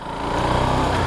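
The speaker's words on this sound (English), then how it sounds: "That's the sound of the engine." Close-up, a 2016 KTM 690 Duke motorcycle engine runs in a steady, loud, low-pitched drone for about a second, with no voices over it.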